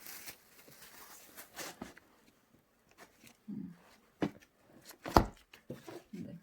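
A knife cuts through a day-old chocolate sponge cake on a board, heard as a few sparse, sharp close knocks and scrapes separated by quiet gaps, with soft handling noises between them.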